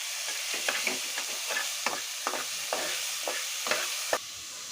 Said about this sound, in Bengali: গাজরটা দিয়ে একটু নাড়াচাড়া করব।